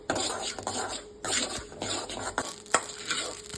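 Poppy seeds roast in a pan, stirred in repeated scraping strokes over a light sizzle, close and moderately loud with no talking.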